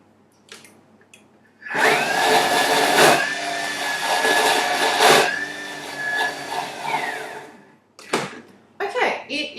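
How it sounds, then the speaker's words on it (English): A kitchen blender whirring through a chia seed mixture, a loud motor whine that holds for about six seconds, then stops, with brief talk before and after. "I'm just going to give it another blend."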